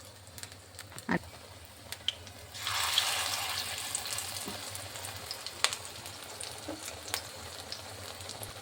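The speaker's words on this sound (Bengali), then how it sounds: "আমি সর্ষের তেল দিয়ে ভাজছি এটা পকোড়াটা" Kanai leaf pakoras, made from a ground rice and lentil batter, fry in mustard oil in a kadai. A quiet sizzle swells up partway through and keeps going, with a few soft clinks and taps on top.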